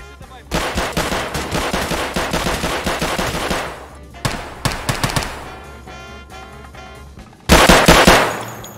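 Loud bursts of automatic gunfire in the game Escape From Tarkov, rapid close-range rattling volleys followed by scattered single shots and another sharp burst near the end.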